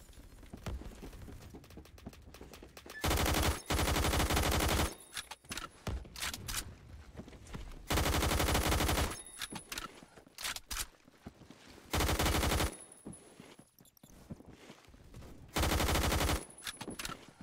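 AUG rifle firing full-auto in the Phantom Forces shooter game: five loud, sustained bursts of rapid gunfire, each lasting about a second, separated by quieter gaps of light clicking and movement.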